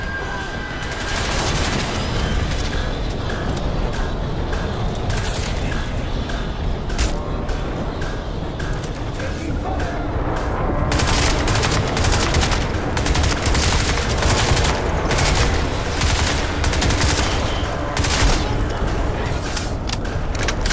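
Unsuppressed gunfire in Crysis 2, set in a ruined New York City: dense, continuous rapid shots and booms that grow heavier in the second half, loud and sustained with no talk.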